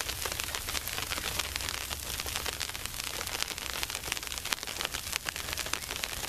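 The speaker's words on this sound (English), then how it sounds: "You can see it's sleeting pretty bad now." Sleet pours down in a winter storm, a dense, even hiss of icy pellets striking the ground and surfaces nearby, steady and unbroken with no voices.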